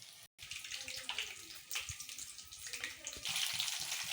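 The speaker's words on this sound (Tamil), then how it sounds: "இப்போது இந்த இந்த உருண்டையை நான் எண்ணெயில் போட்டு காட்டுறேன் உங்களுக்கு" Potato cheese balls drop into hot frying oil, giving a steady, bright, hissing sizzle with small bursts of crackle that swells louder toward the end, heard close up.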